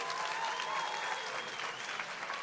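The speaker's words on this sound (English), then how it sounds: "Oh, yes, give him a clap." Audience applause at a library event launching a summer program with Lion King cast members, a steady dense wash of clapping filling the room without speech.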